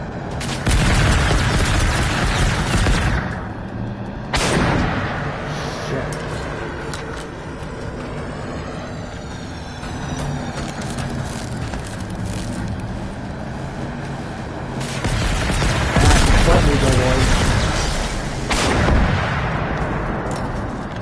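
A chain gun in a video game fires long sustained streams of loud, booming shots, with heavy bursts at the start and again near the end and quieter continuous rattling in between.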